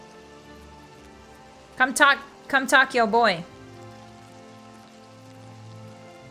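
Rainfall in the Oblivion video game forms a faint, even hiss beneath a short burst of speech in the middle.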